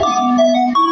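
A Cherry Mobile phone ringtone played at a birthday and christening party sound-guessing game: a short, loud electronic melody of a few sustained tones stepping between pitches, alone with no voices.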